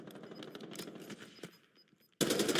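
Video game gunfire from sniping: a dense stretch of rapid shots and bursts at moderate level, a brief quieter gap with thin high tones, then a sudden loud burst of fire at the end.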